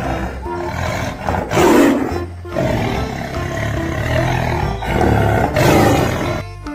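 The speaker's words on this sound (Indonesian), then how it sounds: "Harimau binatang buas." A tiger's roar, loud and close, repeating in long rumbling bursts with brief gaps, alone without talk.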